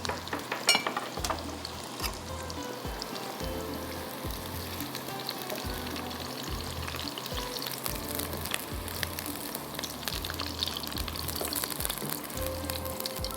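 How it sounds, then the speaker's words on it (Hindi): Food sizzles and fries in a pan for a meat curry, a steady close hiss with stirring scrapes and low rhythmic thumps underneath throughout. "अभी मैं इसको थोड़ा सा फ्राई करके निकालती हूँ।"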